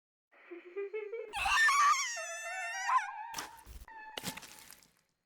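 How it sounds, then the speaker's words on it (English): Susan's terrifying scream rings out from a phone in the horror game Spirit Hunter: Death Mark, a shrill, wavering, tonal wail that rises and bends over several seconds and breaks into harsh crackling bursts near the end. "Susan's terrifying scream echoes from both the phone outside the booth."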